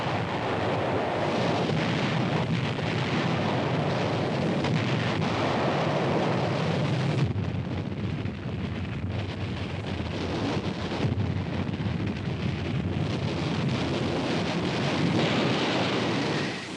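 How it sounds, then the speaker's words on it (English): Rocket launchers fire salvos amid explosions on Iwo Jima in 1945 WW2 combat footage, heard as a continuous dense roar of rumbling blasts and whooshing noise with shifts in intensity. "Once its rockets were fired, the vulnerable rocket launchers quickly left the area."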